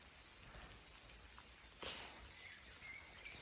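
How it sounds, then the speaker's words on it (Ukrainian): Rain falls steadily outside in the countryside, a soft, faint patter with a few brief, sharper drips standing out. No one speaks. "Сьогодні в нас так дощить."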